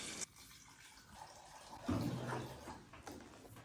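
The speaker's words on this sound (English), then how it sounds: "You're gonna cover those in water." Tap water runs into a pot of peeled, diced potatoes, a soft steady rush nearby that swells briefly partway through with faint splashing.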